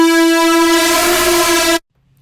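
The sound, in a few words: cinematic synth arp sound played on Performer 2 synthesizer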